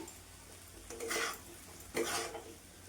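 A prawn and leafy-vegetable curry is stirred in a pan, with no added water. Two short, quiet bursts of scraping and light sizzling come about a second apart, with near silence between them.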